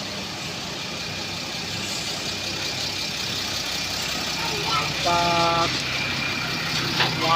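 A Mitsubishi Fuso Canter Euro 4 truck engine labors and revs under a heavy load, a steady mid-pitched drone held throughout with a brief rise near the end, while someone talks over it.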